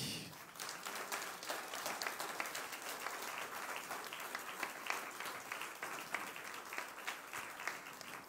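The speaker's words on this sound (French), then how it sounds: "Puis on va vous applaudir, mes bons amis" Church congregation at a Sunday Mass applauds steadily, a soft, continuous patter of many hands heard from some distance, with individual claps popping through now and then.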